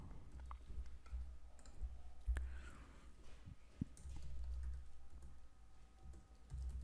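Fingers type code on a computer keyboard, a close, quiet patter of irregular key clicks with a few louder taps and pauses, no speech over it.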